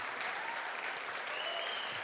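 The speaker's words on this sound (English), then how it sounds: "please give them a round of applause" Steady round of applause from a gala audience at the Airdrie Chamber of Commerce 50th anniversary event, dense and even throughout, with no voices over it.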